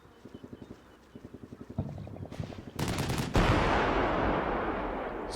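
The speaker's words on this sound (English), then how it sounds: "the Stryker retaliates by putting some fire down" Bursts of automatic fire from a Stryker armored vehicle in the wargame Combat Mission Shock Force 2: short rhythmic rattling volleys, then a heavier blast and a loud sustained roar of weapons fire, with no talking.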